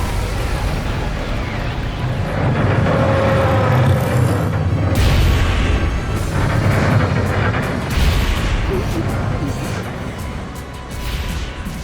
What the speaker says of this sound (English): I'm firing my laser.